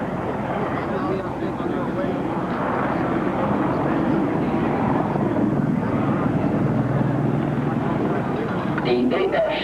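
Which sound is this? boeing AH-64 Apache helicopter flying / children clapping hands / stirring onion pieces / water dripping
boeing AH-64 Apache helicopter flying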